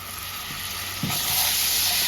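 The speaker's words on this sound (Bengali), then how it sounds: "মশলাগুলো আমি নাড়াচাড়া করে নেব মশলাগুলো যাতে পুড়ে না যায় তার জন্য একটু জল দিয়ে দিলাম" Chili and turmeric powders frying with a splash of water for a pointed gourd (potol) dish, a continuous hissing sizzle that grows louder, with a couple of soft stirring scrapes, close and no talk.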